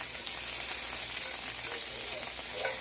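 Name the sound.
margarine-like spread melting and sizzling in a pan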